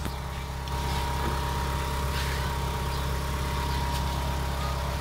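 A fuel-injected car engine idles steadily in its ordinary warmed-up state, a low continuous hum with fixed harmonic tones, close and unbroken throughout with no talking.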